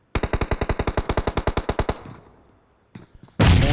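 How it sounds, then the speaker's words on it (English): A long rapid burst of automatic gunfire in the PUBG Mobile battle royale game, about twenty evenly spaced loud shots, followed by a fading tail, a brief quiet, then a couple more sharp shots. "More shots coming in."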